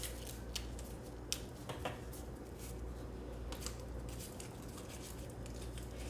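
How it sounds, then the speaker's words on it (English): A knife cutting through a stick of butter or margarine in a home kitchen, soft scraping and light taps with a few sharper clicks, quiet and close with no talking. "you're going to get out your stick of butter and you're going to kind of just cut it up to put it in there"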